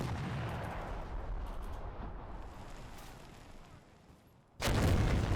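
A bazooka round and gunfire in a war video game about a US amphibious invasion, with a Sherman tank nearby: a rumbling barrage of shots and blasts, easing off before a sudden, loud explosion near the end.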